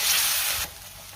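Masala of spices being sautéed in oil in a pan for a cowpea curry, giving a steady close hiss that abruptly drops to a softer sizzle.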